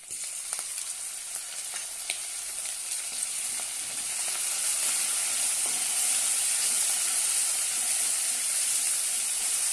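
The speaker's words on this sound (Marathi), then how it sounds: "छानपैकी तेलामध्ये फ्राय करून घेऊया" Chopped tomato and curry leaves fry in hot oil for a bitter gourd masala dish, making a steady, loud, close sizzle with a bright hiss that swells slightly about halfway through, with no talking.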